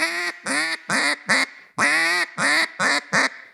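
A duck call imitates the lazy quack of an old hen mallard, sounding two close, evenly paced runs of four nasal quacks each, loud and near with no talking.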